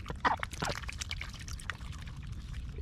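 Water poured for ducks in a morning farmyard, a splashing pour close to the microphone that settles into a soft trickle and dribble, fairly quiet overall with no talk.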